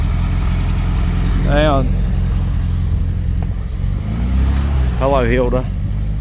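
The engine of a custom Karmann Ghia convertible hums steadily and low, close by, while it is put in gear, and someone speaks briefly over it.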